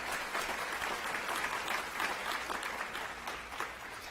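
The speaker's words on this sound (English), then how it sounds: "join me in giving a round of applause for our Bureau of Special Education and our IUs as well" Conference audience applauding steadily and densely throughout, a sustained wash of clapping from a large crowd in a hall, fairly even in loudness with no voices on top.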